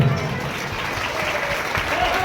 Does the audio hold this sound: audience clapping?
yes